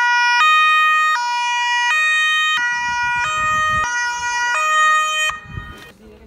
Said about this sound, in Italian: Vuole accendere la sirena?